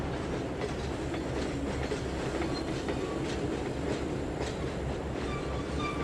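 A Burlington Northern intermodal freight train running in the Trainz 2022 simulator, a steady rumble with rhythmic wheel clatter and faint squeals throughout, no voices.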